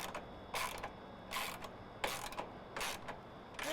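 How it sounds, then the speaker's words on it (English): A ratchet tool tightens the straps of an S&B particle separator on a Polaris RZR Pro, four quick bursts of close, fine clicking at a regular pace over a low background hum. "Now go back in and tighten everything down."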